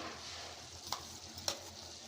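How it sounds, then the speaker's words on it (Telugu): Green chilli paste fries in a pan with a soft, steady sizzle, and a couple of sharp clinks from a stirring utensil stand out against the quiet, even hiss. "దీంట్లోకి పచ్చ పట్టుకున్న పచ్చిమిర్చి పేస్ట్ని వేసుకుందామండి"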